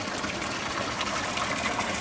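Water runs steadily through an ancient stone channel at the Pisac ruins in Peru's high mountains, a continuous soft gushing rush held at an even, moderate level with no voices.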